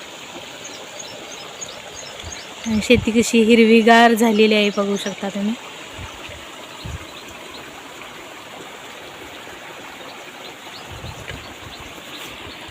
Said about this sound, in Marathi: हे बघा पाटानं पाणी असं जात आहे